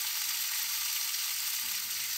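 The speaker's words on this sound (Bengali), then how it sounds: "মশলাটাকে একটু ভালো করে ভেজে নেব" Turmeric and spice paste sizzles steadily in a hot pan, a loud, continuous hiss of frying that runs alone without a break.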